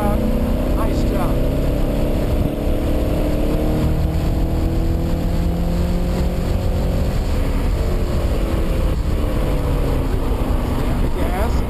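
An Audi RS4 accelerates around the Lime Rock race track, its engine droning loudly and continuously with rising pitch sweeps as it pulls through gears, under wind and road roar.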